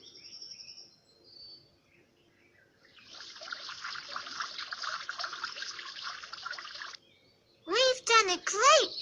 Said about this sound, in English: Let's water them so the flowers grow faster.